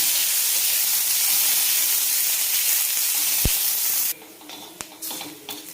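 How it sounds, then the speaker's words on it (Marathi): Sliced onion frying in a pan: a loud, steady hiss and sizzle fills the first four seconds, then drops sharply to a quieter crackle with a couple of sharp clicks. "तर हा आपला कांदा छान भाजलेला आहे"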